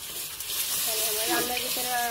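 Eggs fry in hot oil with turmeric and salt in a pan. A loud, steady sizzle with a bright hiss fills the clip, and a voice murmurs faintly underneath.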